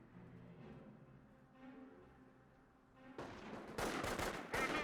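Volksgrenadiers firing rifles in Company of Heroes: after a quiet low rumble, sharp crackling gunfire volleys break out and grow denser and louder toward the end.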